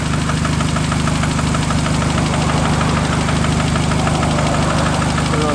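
Engine rod knock heard up close through a screwdriver pressed against the engine block near a cylinder: a dense, continuous mechanical clatter of rapid knocking over a steady idling drone, loud and unbroken, with no talking.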